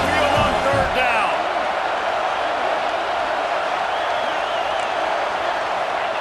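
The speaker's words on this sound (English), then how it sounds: "The Tide crowd roaring noise down onto Saban Field on 3rd down." Stadium crowd roars steadily at a college football game at Saban Field in the EA Sports College Football 26 video game, a dense continuous wall of noise with a brief voice at the start.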